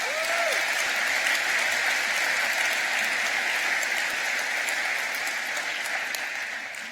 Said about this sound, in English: A big round of applause for those who couldn't make it.